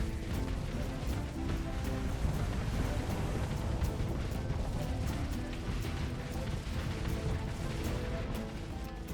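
Spaceship weapons fire all at once in the space combat game StarSector, a dense, continuous barrage of booming blasts and crackling impacts that stays loud throughout with no pauses.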